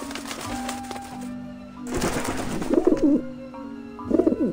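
Pigeons coo in the video game Grim Fandango Remastered, with a few low, throaty, warbling calls close by over a steady humming game background and clicking.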